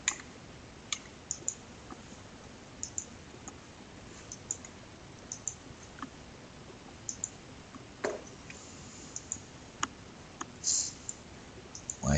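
Flight plan details typed on a computer keyboard: quiet, irregular key clicks scattered through a low background hiss, with a brief quicker flurry near the end and no one speaking.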